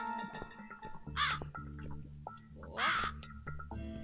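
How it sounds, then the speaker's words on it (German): A raven in the video game The Cat Lady gives two harsh, drawn-out caws over low, droning game ambience, and a person briefly exclaims once. "ich versuche gerade dem Raben hinterher zu gehen"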